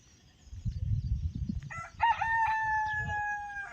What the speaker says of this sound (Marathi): कोंबड्या साऱ्या अंगणात लांब पर्यंत चारत्या